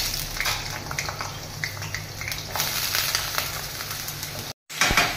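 Small potatoes frying in a pan of hot oil on a gas stove, giving a steady close crackling sizzle with scattered pops, briefly cut out near the end before resuming.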